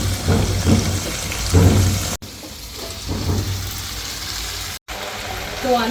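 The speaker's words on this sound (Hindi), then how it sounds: "तो जीरा चटक गया है तो बस अब आलू डाल देंगे।" Cubed, washed potatoes tipped into hot oil with crackling cumin, giving a close, steady sizzle and crackle, cut by two brief dropouts, while someone talks over it.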